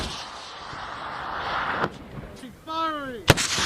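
One loud, sharp blast from a Carl-Gustaf recoilless rifle near the end, after a rising voice shout and outdoor rumble, followed by brief echoing noise.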